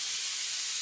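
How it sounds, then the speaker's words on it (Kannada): A pressure cooker whistle in a home kitchen releases a brief, steady rush of hissing steam, loud and close, with no voices. "ಮಧ್ಯದಲ್ಲಿ ಕುಕ್ಕರ್ ಸೀಟಿ ಸೌಂಡ್ ಬರ್ತಾ ಉಂಟು"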